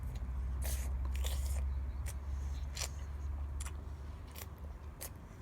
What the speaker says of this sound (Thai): เคี้ยวดีๆค่ะ